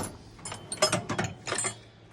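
A used ratchet wrench from a workshop tool collection gets handled in short bursts of metallic clicking and ratcheting. The bursts are close and fairly loud, with a brief pause in the middle, and there is no speech.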